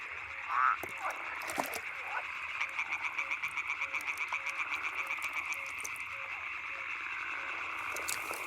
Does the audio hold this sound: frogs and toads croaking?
yes